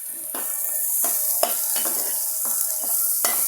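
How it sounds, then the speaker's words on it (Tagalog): Onion and garlic sauté in hot oil with a steady close sizzle, broken by several rhythmic scraping stirs of a spatula against the pan, with no voices. "Pagsabayin na natin ang sibuyas at bawang."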